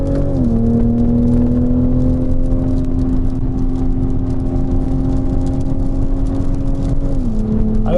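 A BMW Z4 M40i roadster on a race track holds a loud, steady engine drone from inside the car, with one gear change near the start and another near the end.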